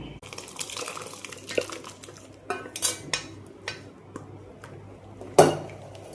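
Metal clinks and scrapes of a spoon working through a pot of mutton dalcha, irregular and close, with a louder clang near the end.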